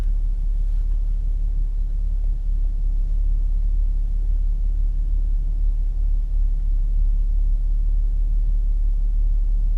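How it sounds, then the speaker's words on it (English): Audi B8.5 S4 engine idling low and steady on a cold start, a continuous deep rumble throughout with no voices. "It does idle low for a cold start, eh?"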